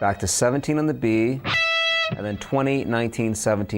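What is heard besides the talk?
No everyday noises stand out.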